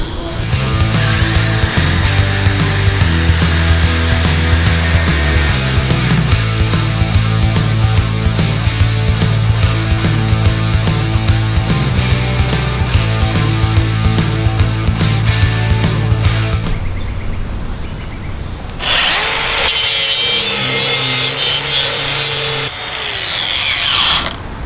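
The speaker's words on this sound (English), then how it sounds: "Just let the grinder do the work and see how many cuts we get out of each blade." An angle grinder with a 1mm Klingspor metal cutting blade cuts a metal bar: a loud, sustained whining motor drone, then a harsher rushing cutting burst with a short pause near the end.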